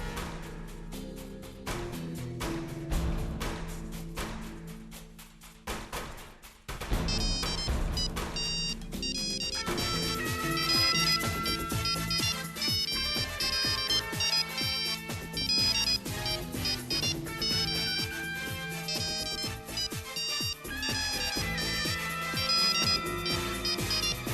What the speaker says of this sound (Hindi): राजीव जी फोन क्यों नहीं उठा रहे?